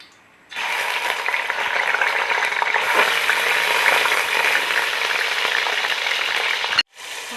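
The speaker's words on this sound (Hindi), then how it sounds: "और साथ ही हमने इसमें सफ़ेद ज़ीरा शामिल कर लेना है और चिकन हमने फ्राई करने के लिए इसमें डाल देना है।" Chicken pieces frying in hot oil with white cumin and cardamom, a loud, steady, close sizzle that starts suddenly, continues without break and cuts off briefly near the end.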